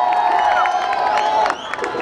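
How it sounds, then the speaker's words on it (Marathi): A crowd at a Marathi short film promotion event cheers and whoops loudly over sustained applause, with voices shouting across the whole short burst before it eases slightly near the end. "याच्यासाठी जोरदार टाळ्या"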